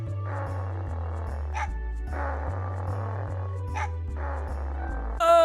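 Synthesized dog barks from the Mega Man Legends video game, a repeating bark pattern in three bursts over steady looping game music with a low bass line.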